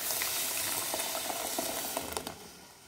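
Blended corn mixed with milk poured into a sizzling flour roux for a corn cream, giving a steady close frying hiss with soft bubbling and light stirring clicks throughout.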